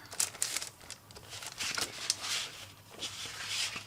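Festive Christmas crepe paper from a junk journal kit is handled and crinkled close up, giving bursts of crisp rustling and crackling with short pauses between them.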